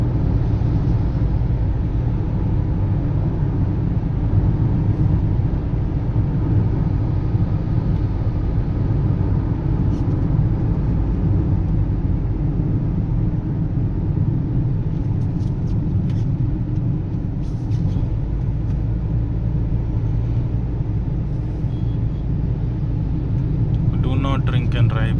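Steady low road rumble and engine drone from a car cruising on the STRR highway at night, continuous and fairly loud throughout with faint brief higher noises near the end.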